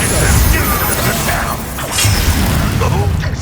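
Confringo fire-blast spells in Hogwarts Legacy on PS5, with loud booming and crackling bursts amid a chaotic duel, along with whooshes and voices under the impacts.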